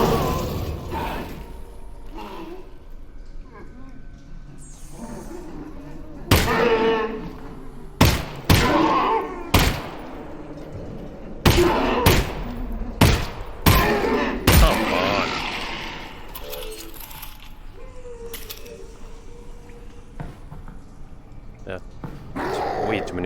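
Gunshots in the Half-Life: Alyx video game, a burst of about a dozen sharp, loud pistol cracks fired in quick irregular succession, with quieter game ambience and someone talking before and after.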